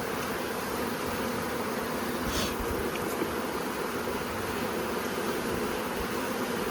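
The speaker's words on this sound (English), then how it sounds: "We have a whole bunch of bees festooning on here" Honey bees festooning inside an open queen cell starter hive, a continuous soft buzzing hum that stays even throughout, with a faint brief click midway.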